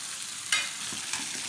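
Thinly sliced beef frying in a pan for a beef spaghetti dish gives a steady, soft sizzling hiss, with a couple of light utensil clicks partway through and no talking.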